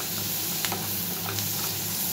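Chopped garlic and green chili sizzling in melted butter in a pan, a close, even crackling hiss with a couple of brief stirring scrapes.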